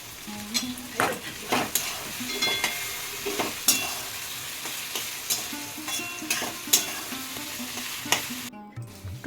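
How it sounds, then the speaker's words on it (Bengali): Tomatoes sizzle loudly in a pan for a homemade chicken curry. A spoon scrapes and stirs them in a quick, repeated rhythm, and the sound cuts off abruptly near the end. "টমেটোটাও ভাজা ভাজা হয়ে গেলে দেওয়া হলো মশলা।"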